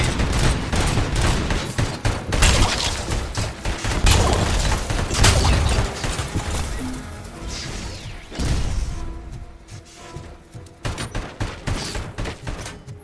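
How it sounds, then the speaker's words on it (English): Heavy machine gun fire in a Detroit-set video game: dense, loud bursts of rapid shots and impacts for several seconds, then quieter scattered shots and crashes toward the end. "Heavy machine gun? Yes, please."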